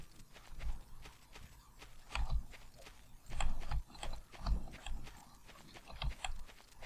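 Horse hooves clip-clop at a steady walking pace in the Far Cry video game, a repeating rhythm of fairly close thuds and clacks over quiet ambience.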